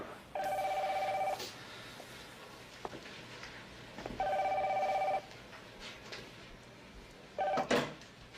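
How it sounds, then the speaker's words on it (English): Telephone in the movie Scarface rings in three bursts, each a steady electronic trill of about a second, the last cut short, separated by quiet gaps with faint rustling and knocks. "Yeah, he got that phone call."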